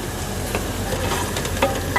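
Onions frying in hot oil in a pressure cooker give off a steady, close sizzle with occasional stirring scrapes, with no talking.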